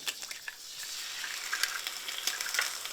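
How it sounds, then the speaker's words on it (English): Eggs frying in butter in a pan give a steady, close crackling sizzle with scattered pops throughout, no voices. "Put some eggs in there."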